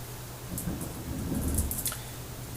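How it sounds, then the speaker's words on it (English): Thunder rumbles low through a steady storm, with rain hissing continuously across the clip and a few faint higher crackles; no voices are heard. "there's a bit of a thunderstorm"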